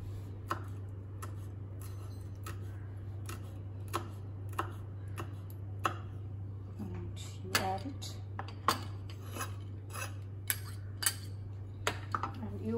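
A knife chops pepper and chili finely on a board at home: irregular sharp taps, some in quick clusters, over a steady low hum, with occasional talking in between.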